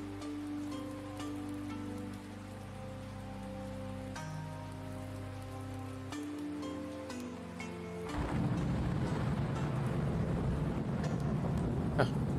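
Steady rain falls in the video game Universe For Sale, a dense, even wash over a soft musical backdrop that grows louder and heavier partway through and then holds.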